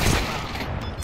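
Gunfire from a CS:GO match rattles in a dense, continuous burst across the whole short moment, loud and close with no pauses or talk.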